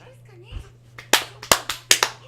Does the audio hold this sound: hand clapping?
yes